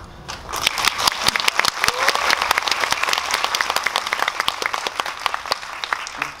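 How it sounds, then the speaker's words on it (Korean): Dense applause from a cinema audience at a Korean film screening and Q&A for the film Hunt, steady and sustained, with many overlapping claps from start to finish and no talk over it. "제가 말씀드리기 전에 바로 박수가 나오는 거 보니까 인정하시는 거죠"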